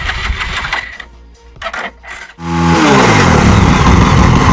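A Pulsar motorcycle, just repaired and taken out on a test ride, revs up loudly nearby. The engine climbs into a sustained, rising roar after some rougher mechanical clatter.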